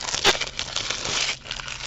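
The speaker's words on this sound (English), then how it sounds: "we're actually going to shuffle and pull one card right now for the feel of this deck" Tarot cards shuffled and one pulled from the deck, giving a steady papery crinkle and rustle with one sharper snap near the start, close up and with no talk.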